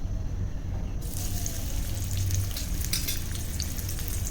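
Chopped onion and garlic frying in a couple of spoons of oil for a Malvani-style squid curry, a steady close sizzle with faint stirring, getting a bit brighter after the first second and continuing without pause.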